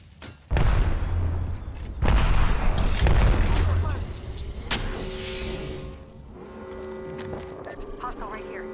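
Grenade explosions in Apex Legends, two loud, sharp booms about a second and a half apart, each followed by a rumbling tail, then a fading whine and humming game tones, with voices faintly underneath.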